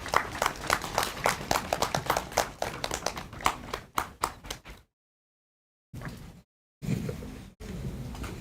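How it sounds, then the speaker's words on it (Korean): A rally crowd at a March 1st Independence Movement Day gathering applauds, uneven close clapping that stops in abrupt dropouts, then resumes briefly in short bursts. "큰 박수 부탁드리겠습니다."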